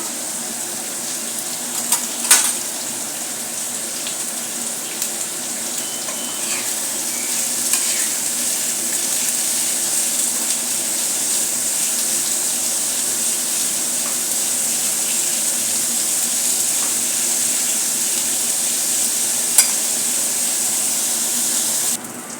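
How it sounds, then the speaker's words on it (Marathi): Onion frying in a small spoonful of oil for a crab curry, a steady sizzle running the whole time with occasional spoon scrapes and stirs, close and fairly loud, no talking. "आता याच्यामध्ये आपण चांगला भाजून घेऊया"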